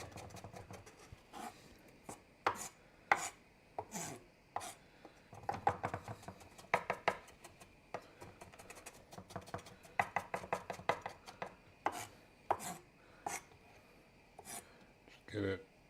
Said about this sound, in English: Chop up the ginger